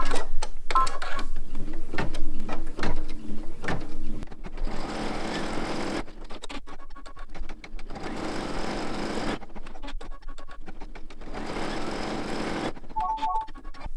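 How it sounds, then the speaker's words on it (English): An embroidery machine stitches the tack-down step of an appliqué, close and steady, in a rapid mechanical whirr that comes in bursts. The bursts are broken by short pauses and clicks as the hoop moves between runs. "we will lay our applique fabric over the placement line and stitch the tack down step"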